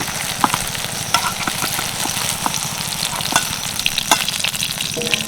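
Continuous frying sizzle with scraping and clinks of a spoon lifting fried brinjal pieces out of hot oil in a kadai, no voices.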